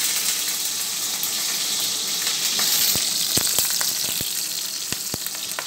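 Green chilies hit hot oil in a kadai, producing a steady, bright frying sizzle with sharp pops and spits cracking out irregularly toward the end, close and clear with no talking.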